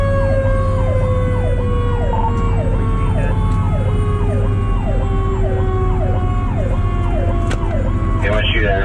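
A fire truck's Q siren wails steadily from inside the cab on a ride along, with a rapid warbling electronic siren over a deep mechanical whine and constant loud engine rumble, and a horn blast near the end.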